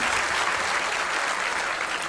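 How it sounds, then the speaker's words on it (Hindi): Steady applause from a lecture audience in a hall, dense and continuous, many hands clapping at once with no voices over it. "और ताली तो बजा रहे हो"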